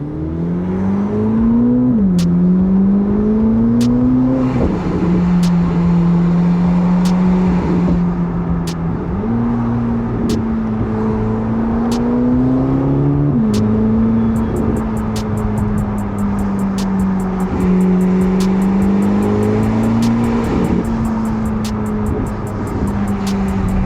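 A 1064-horsepower twin-turbo Chevrolet C8 Corvette ZR1 pulls through downtown Chicago, its exhaust rising and falling in loud, close, repeated revs through several gear changes, with sharp ticking and clicking sounds over the engine roar.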